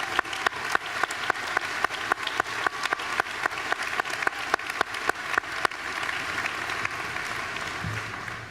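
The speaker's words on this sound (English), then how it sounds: "Let's give them all one more round of applause" An audience at a school commencement ceremony applauds the student performers: broad, sustained clapping from a large crowd with a few sharp, close claps standing out rhythmically, tapering slightly toward the end.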